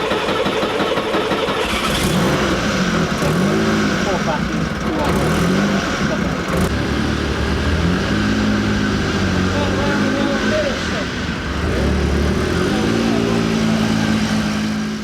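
A Jaguar XJ220 supercar on its first high-speed test run, its engine droning and rising and falling in pitch as it accelerates and shifts, loud and steady throughout with a constant rush of road and wind noise.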